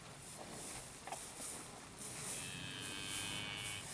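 Faint, distant cattle mooing, a few low drawn-out calls over a quiet outdoor background with soft hum.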